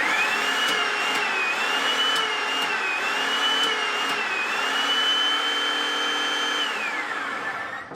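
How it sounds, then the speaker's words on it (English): An Enerpac hydraulic torque wrench pump in auto mode loosening a flange fastener, a loud continuous motor drone with a whining tone that rises and dips in cycles, fading slightly at the end. "we'll show you how to break out or loosen a fastener"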